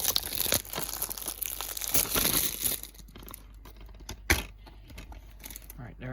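Crinkly plastic wrapping pulled off a movie disc case, close rustling and tearing for a few seconds that thins out, with a sharp crackle near the end and brief talk.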